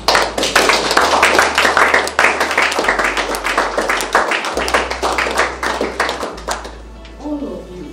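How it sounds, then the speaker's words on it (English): An audience applauds student finalists at a Ghana Stock Exchange young investors event. Loud, dense clapping fills most of the stretch, then thins and fades near the end as a low voice comes in. "They deserve a big round of applause."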